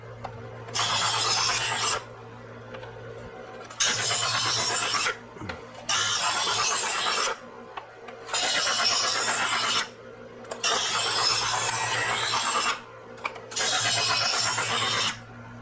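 A kitchen knife is drawn through a knife sharpener in six separate rasping strokes, each lasting over a second with short pauses between, close and loud over a steady low hum.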